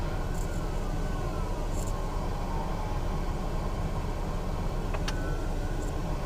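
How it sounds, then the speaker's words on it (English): Emergency vehicle sirens sound continuously from a distance along a main road, wailing under steady traffic rumble and wind noise with no voices. "I hear sirens."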